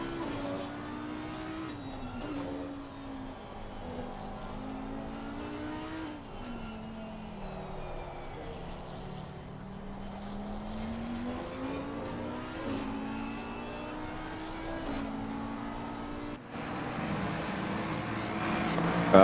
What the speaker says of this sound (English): I have to tone down the screaming of the Audis a little bit.